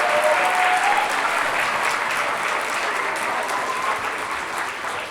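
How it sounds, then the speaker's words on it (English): Audience applause fills a school winter concert hall, a dense steady wash of clapping from parents and families that fades slightly toward the end, with a faint voice briefly heard over it. "let's give them another round of applause."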